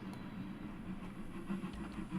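A train running around in the Trainz 2019 game: a faint, steady low rumble of rolling rail traffic with soft rhythmic clicks and light hiss.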